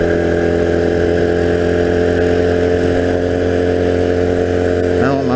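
A 1982 Honda CM250C 250cc flat track motorcycle engine runs loud and close with a steady mid-pitched drone and a slight rise near the end, under buffeting wind noise.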